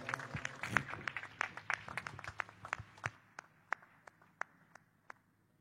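A congregation applauds to welcome a preacher at a Telugu church gathering, dense clapping that thins out into a few scattered, separate claps ringing alone before stopping.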